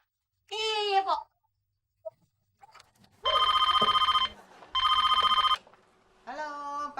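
An office telephone rings in two long, loud electronic bursts, separated by a short gap. Voices speak briefly before and after the rings.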